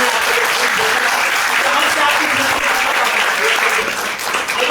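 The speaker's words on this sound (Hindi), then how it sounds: "इसके लिए जोरदार तालियां होनी चाहिए।" An audience at a business plan presentation in Nallasopara breaks into loud, sustained applause, a dense wash of clapping that holds steady throughout and thins slightly near the end.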